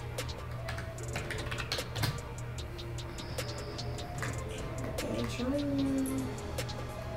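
Computer keyboard typing runs as a steady patter of clicks throughout, set against a constant hum, with voices and a cooing pigeon or dove in the background.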